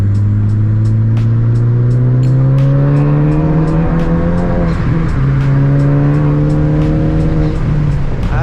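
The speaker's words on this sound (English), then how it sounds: "you can hear a better exhaust tone" A Ford Focus ST's exhaust drones loud and close from inside the car while driving, its rising pitch climbing through the gears with a brief dip at a shift, accompanied by regular ticking clicks.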